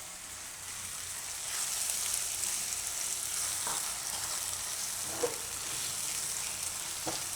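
Green chilies and garlic cook in hot oil for a garlic green chili chutney, giving a steady, even sizzle with a few faint pops and stirring scrapes, close and continuous with no talking.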